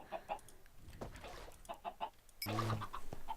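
Chickens clucking in the Minecraft modpack Creed Craft Beyond, a series of short, close clucks and squawks spread over a few seconds, with a louder burst of fowl noise near the end.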